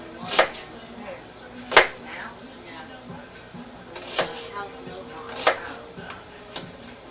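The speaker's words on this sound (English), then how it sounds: "just kind of cut those up in a, however you like them chopped up" Knife chopping vegetables on a cutting board while making black-eyed peas: a handful of sharp, irregular chops spread out over a quiet kitchen background.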